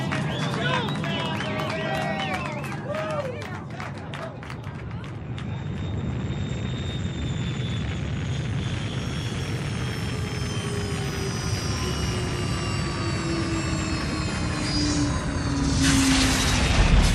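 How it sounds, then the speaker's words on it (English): Rocket engines of a landing spaceship, a television sound effect, rise as a broad, steady roar with rising whistling tones, filling the whole span loudly and building toward the end, with speech-like sounds early on. "Those are rocket engines."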